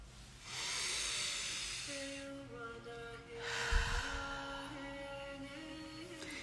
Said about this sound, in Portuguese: Chego aqui pedindo para você respirar junto comigo.